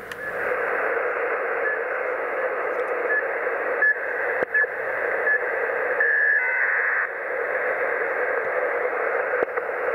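Steady shortwave radio hiss and static on 14.2 MHz fills the whole span, with faint repeating tones and a brief buzzy data burst partway through.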